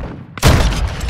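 A loud sniper rifle shot from a video game cracks out sharply and booms, followed by a rolling reverberant tail that lingers to the end.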